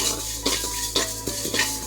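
Rasam powder spices dry-roast in a pan over a low flame while a spoon stirs them, giving soft, close scraping sweeps with a few sharper scrapes and light clinks against the metal over a faint steady hum.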